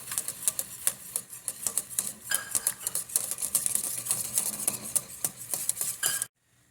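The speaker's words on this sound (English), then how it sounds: "Make sure to mix it while you're pouring it in." A utensil stirs rapidly and steadily against a pot as cornstarch goes into boiling sugar syrup for cendol, scraping and clicking over a bubbling sizzle, then stops abruptly.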